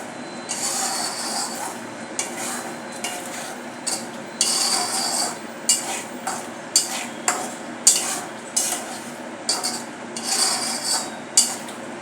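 Masala for a crab curry being stirred and roasted in oil, a steady sizzle under repeated scraping strokes of a spoon against the pan, close and moderately loud.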